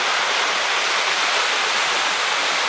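A small decorative waterfall splashes in a steady, even rush, close and fairly loud, with no talking over it.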